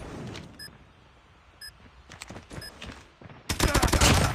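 PP19 submachine gun fire in Call of Duty Mobile, quick bursts of game gunfire building to a dense, loud rattling volley at the end, with short electronic beeps from the game between shots.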